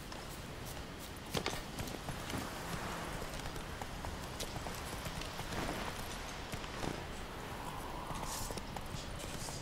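Hooves of Roach, Geralt's horse in The Witcher 3, clip-clopping in a steady trot over a continuous rain-like hiss, fairly soft and even throughout.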